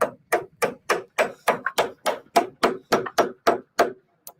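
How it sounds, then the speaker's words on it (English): Hammer driving a nail into a part of a 1982 Ford F350 dually dump truck, about fourteen sharp evenly spaced metallic blows, close and loud, ending in a brief pause. "I have to hammer it in so it's in the right position"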